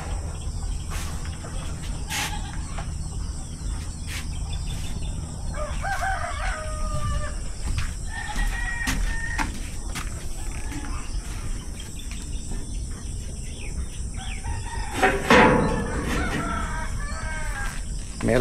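Chickens cluck and a rooster crows outdoors on a farm, with a steady chorus of crickets and insects buzzing in the background.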